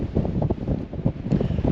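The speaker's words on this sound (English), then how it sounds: "it's a little bit windy" Gusty wind buffeting a microphone on an open hilltop in the Yorkshire Dales, a continuous low rumbling roar that swells and dips, with no one speaking.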